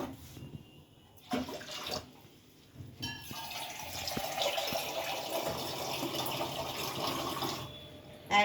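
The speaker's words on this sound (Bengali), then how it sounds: "জল দেবো," Water is poured over rice that was soaked for about 45 minutes for aloo biryani. A few clatters come first, then a steady, close splashing pour runs for several seconds without talk.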